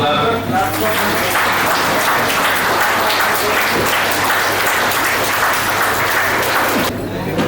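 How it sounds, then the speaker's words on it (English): An audience at a Rotary Club prize distribution for students claps for the winners, with loud, continuous applause filling the hall from start to finish before briefly thinning at the very end. "I request everyone to be silent and clap for the winners."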